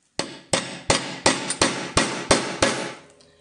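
Eight sharp hammer blows strike a punch through leather, close and loud, spaced at a steady rhythm of roughly one every third of a second, each ringing briefly before the next.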